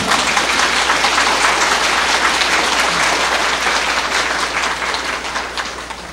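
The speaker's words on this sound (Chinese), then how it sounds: "你们鼓掌是鼓掌" An audience at a Buddhist lecture on the Lotus Sutra bursts into loud, dense applause, close and sustained throughout before easing slightly at the end.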